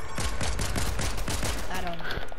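Rapid video game gunfire crackles in a dense, steady burst of repeated shots, loud and close, with voices talking faintly underneath.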